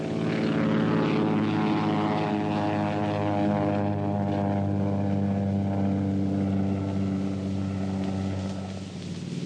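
A propeller-driven warplane from the Pacific war roars steadily and loudly onto an aircraft carrier's flight deck, a dense droning engine with a strong low throb that holds for several seconds before easing slightly at the end.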